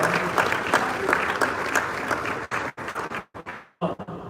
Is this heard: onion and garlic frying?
no